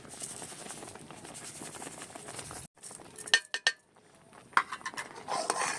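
A spoon stirs kheer (rice pudding) with sugar in a pot, scraping and clinking against the metal in uneven bursts, with a short pause midway before the stirring resumes.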